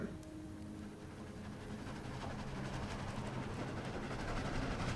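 Train rolling along in the game Dead Rails, a steady rumbling rail noise that swells slightly as it moves, continuous with no talk heard.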